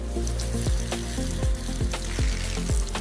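Coconut shells being washed with water and agitation in a coconut shell processing factory: a steady wet churning wash with dull, heavy thuds repeating roughly every half second.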